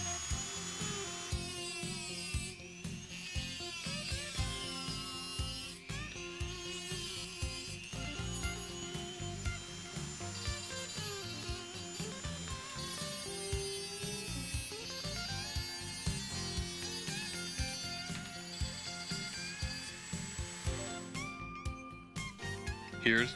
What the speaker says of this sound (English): Mark the length of the horn legs and cut to length using an abrasive disc in the Dremel tool.